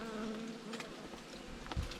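A honey bee colony hums in winter, a close, continuous buzz with faint wingbeat tones and a soft thump near the end.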